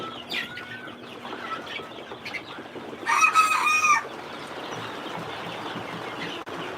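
Young chickens about twenty-four days old cluck and chirp softly around a poultry shed, with one louder crowing call rising briefly in the middle over a steady background hum.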